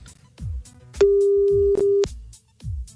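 A telephone ringback tone sounds during a call-back on a French radio show, one steady beep held for about a second, set between short thuds and clicks.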